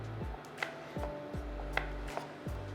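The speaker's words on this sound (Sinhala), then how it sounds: "ඔයගොල්ලෝ කැමති නම් මෙහෙම දිග අතට කපලා දිග ස්ට්‍රිප්ස් උත් ගන්න පුළුවන්" A knife slices a banana lengthwise into long strips on a board, giving several soft, evenly spaced cutting taps over a low steady hum, close and fairly quiet.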